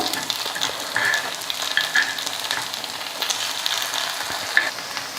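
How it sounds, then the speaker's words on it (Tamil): Kuzhi paniyaram frying in a pit pan, a steady close sizzle with a few bright metallic clicks as the pieces are flipped. "குழி பணியாரம் நல்லா திருப்பி விட்டுட்டோம்."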